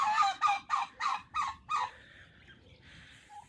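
A run of six loud, evenly spaced gobbling calls from nearby turkeys, then quieter rustling and faint calls trailing off.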